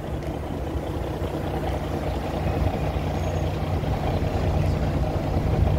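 A large ferry engine drones steadily and loudly during a crossing to Jureia, a continuous low rumble mixed with churning water noise, building slightly over time.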